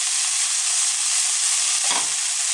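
Cabbage salad with sugar, coconut and lemon juice is tossed in a hot pan. A steady, close sizzle runs throughout, and one brief scraping stir is heard near the end.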